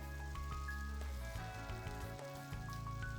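Chopped fennel and sweet Vidalia onion sweat gently in a soup pot, giving a soft, even, continuous sizzle like light rain, with faint tonal sounds behind it.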